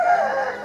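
An Aseel rooster gives a brief, loud, close crow, a single sustained tonal call.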